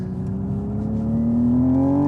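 A Hyundai Ioniq 6 N electric performance car on the move, its steady synthetic drive tone rising in pitch as it gathers speed, heard from inside the cabin with no talk.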